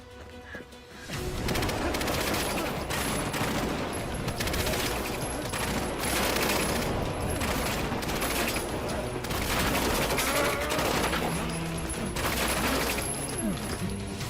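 Rapid pistol gunfire fires in a dense, nearly continuous volley, loud and sustained from about the first second to the end, with overlapping shots and no clear gaps.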